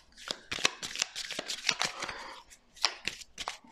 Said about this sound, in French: Allez, on va tirer 4 cartes